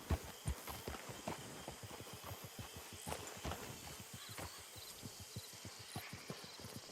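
Steady clip-clop of horse hooves at a walking pace in Red Dead Redemption 2, close and fairly loud, with a brief whinny-like sound partway through.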